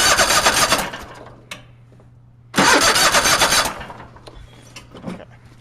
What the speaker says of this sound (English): Turn the motor over.